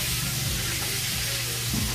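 Food frying in a pan, a steady close sizzle with stirring running unbroken through the moment, no voices.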